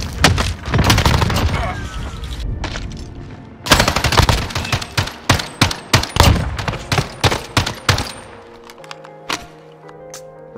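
A rapid-fire AUG rifle in a Search and Destroy video game match lets off dense, loud bursts of gunfire separated by short pauses, then a few scattered shots and thin electronic tones near the end.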